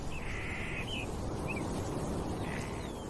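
Caracaras give a few harsh, short calls, returning to feed at a kill left by a puma. The calls sound moderately distant over a steady, noisy outdoor background.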